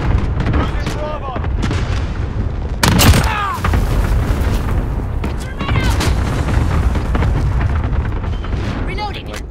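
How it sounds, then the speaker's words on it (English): Cluster strike explosions boom in a video game battle as a rolling series of heavy blasts and crackling impacts, the loudest burst about a third of the way through. Radio-style voice callouts sound over the barrage. "Allied cluster strike inbound."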